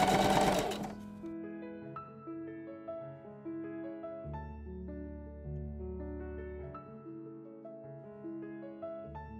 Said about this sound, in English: Run it through the machine and finish the other end by hand.